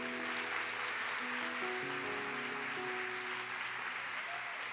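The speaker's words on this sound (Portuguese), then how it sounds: "Você pode aplaudir o Senhor?" A church congregation at a women's service applauds in a steady, dense wash of clapping, with sustained keyboard chords ringing underneath.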